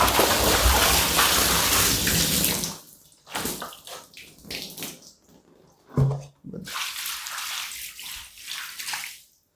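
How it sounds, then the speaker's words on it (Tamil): Ten litres of water pour from a pot onto a mattress in a loud, splashing gush that soon drops to broken trickles and spatters, then swells into a second steady splash. "இப்போ நம்ம இந்த குடத்தில் இருக்கிற 10 லிட்டர் தண்ணி அந்த பெட் மேலே ஊற்றி"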